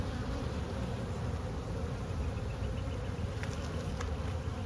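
Honeybees buzz around an open hive during an inspection of brood frames on a hot day, a steady close drone with a few sharper passing wingbeats near the end, no talking.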